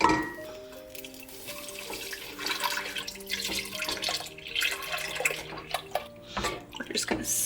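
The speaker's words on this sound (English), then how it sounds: "we're going to start adding our milk" Milk pours steadily into a pot of rice porridge with gurgling and splashing, close and fairly quiet, accompanied by faint clatters and a low background hum.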